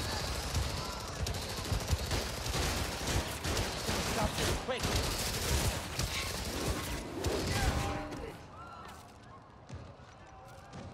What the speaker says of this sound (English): I'm hearing shots.